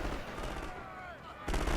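Artillery and gunfire boom through a World War I video game battle, with rumbling blasts and crackling shots layered under constant battle noise and a heavy impact near the end.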